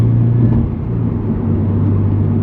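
A manual-transmission car engine drones steadily from inside the cabin, its pitch dipping briefly as the gear changes from fourth to fifth and then settling into an even hum.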